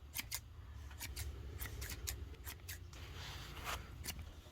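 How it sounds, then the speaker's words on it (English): Scissors snip through the cords of a cordless mini blind being shortened, a quick series of about a dozen sharp, close cuts in irregular bursts over a low background hum. "We're going to cut all these strings, so just cut them down like this."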